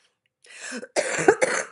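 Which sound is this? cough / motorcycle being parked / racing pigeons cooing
cough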